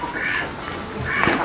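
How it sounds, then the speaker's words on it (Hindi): Ducks quacking on a duck farm, a small flock of home-incubated birds calling in short nasal bursts close by, with a steady background murmur. "ये जो डक्स हैं वो मेरे खुद के इंक्यूबेटेड किए हुए हैं"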